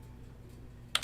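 Quick keyboard typing heard during an online card game: a couple of sharp, close key clicks near the end after a quiet, faintly humming stretch.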